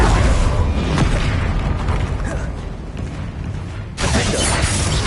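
Incendio fire spell cast in the Hogwarts Legacy video game, a loud, sustained roaring whoosh of flame and crackle that dips briefly, then surges back at full strength, with no talking.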